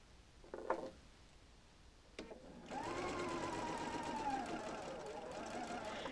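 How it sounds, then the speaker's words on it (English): A sewing machine stitches around the arch of a Double Wedding Ring quilt piece. There are a couple of faint handling clicks, then the machine starts up and runs at a steady whirring pace, moderately close, with no one talking. "So I'm going to sew until the needle stops right onto that seam line."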